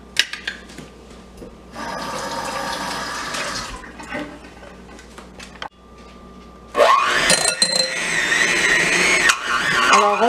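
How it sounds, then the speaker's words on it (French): An electric mixer whirs through three eggs for Cadbury biscuits, running in steady bursts with a brief pause, then rising louder and harsher near the end; no voices. "Et on va les mélanger au mixeur."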